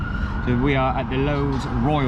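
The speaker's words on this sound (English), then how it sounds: "you can hear the sirens in the background because they're clearing out all the lights for all the coaches and everything to come through" Emergency vehicle sirens wail steadily in the background at a resort hotel where traffic lights are being cleared for coaches, while a person talks over them.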